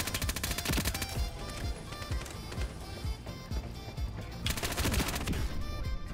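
Rapid bursts of P90 submachine gun fire in the shooter game Ironsight, sharp repeated cracks in dense volleys with short gaps, loud and close throughout.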